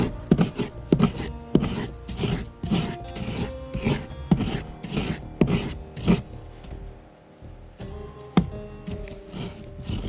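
Mature coconut scraped on a traditional seated grater into a bowl below, a steady rhythm of close, crisp rasping strokes repeating roughly every half second, with no talking.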